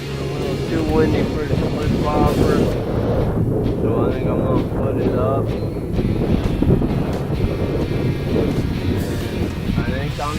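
Steady wind roars and buffets against the microphone on a fishing boat in open water, loud and continuous under someone talking throughout.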